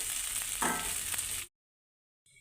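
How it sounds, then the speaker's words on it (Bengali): An onion mixture fries in a pan for fried eggplant, giving a close, bright continuous sizzle with light stirring, then cutting to silence before a faint return of frying at the end. "পেঁয়াজ মাখানো যে মিশ্রণটি ছিল সেটাকে দিয়ে এখন আমি ভেজে নেব"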